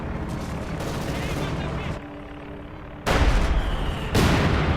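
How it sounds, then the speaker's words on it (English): Artillery and gunfire from a 1v1 Company of Heroes 2 match: a continuous crackle of shots and booms with a brief lull midway, then heavier blasts returning, under a commentator's voice. "Looks like he's firing towards the field gun there."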